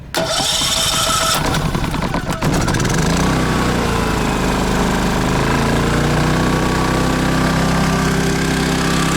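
An RV generator cranks and catches with economy mode off, then settles into a loud, steady high-RPM drone that holds for the rest of the clip, with no talking.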